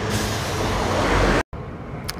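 Loud, steady road vehicle rumble of a truck passing close by on a street in Nordhausen, Germany, then a sharp cut and continuing traffic noise.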